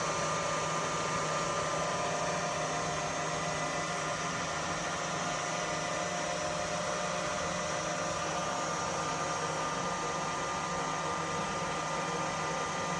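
Sharp LMV 50 CNC vertical milling machine with a DVS head running a program, heard as a steady, even broadband whir and hum at moderate distance, unchanging throughout and without talk.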